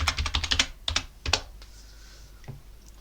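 Quick bursts of keystrokes on a computer keyboard as a password is typed, close and crisp in two short flurries, then a lone final key tap after a pause.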